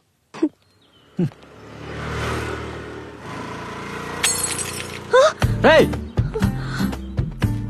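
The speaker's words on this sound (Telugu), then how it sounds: "బంగారు లాంటి స్పెట్స్ పగిలిపోయింది" A pair of spectacles shatters in a dramatic film scene: a sharp, brief breaking crash mid-stretch, set among music, background noise and voices.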